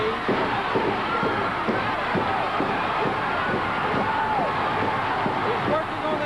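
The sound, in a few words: wrestling arena crowd cheering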